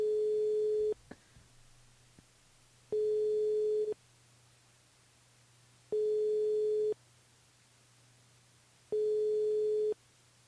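A telephone line tone repeats in four steady, evenly spaced beeps of about a second each, with quieter gaps between them and a faint background hum, as a call goes unanswered.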